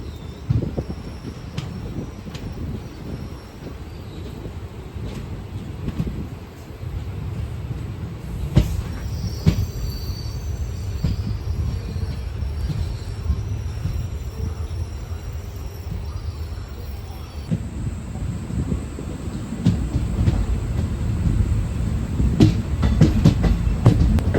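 Alappuzha–Ernakulam passenger train rolling along a single-line track, a steady rumble of wheels on rails with faint clicks and rattles throughout, continuous and fairly close.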